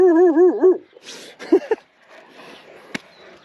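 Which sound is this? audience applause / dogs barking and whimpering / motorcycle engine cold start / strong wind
dogs barking and whimpering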